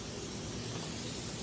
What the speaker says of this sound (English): So I'm going to click this back over to mist on my hose setting.